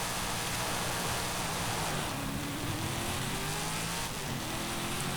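Cadillac CT5-V Blackwing engine in Forza Horizon 5 racing in S1 class, a steady loud drone with rising and falling pitch as it revs and shifts, continuous with no talk.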